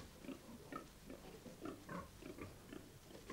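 Soft, busy grunting and snuffling of piglets at a sow, a rapid patter of small oinks close by with no talking.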